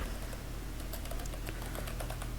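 Fast, steady keystrokes clatter on a computer keyboard as code is typed for a PIC16F877A microcontroller project, the individual clicks close and continuous over a low background hum, with no talk.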